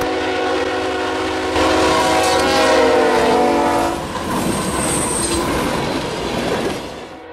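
Union Pacific freight train carrying CP and UP locomotives passes close by on a snowy winter day in Cincinnati, a loud steady rumble of cars with a horn blast and clattering wheels that fades toward the end.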